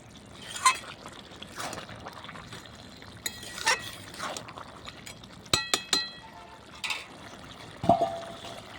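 Beef and cabbage curry is stirred in a pot on a clay stove, with soft, intermittent metallic clinks and scrapes against the pot over a quiet, faintly bubbling background.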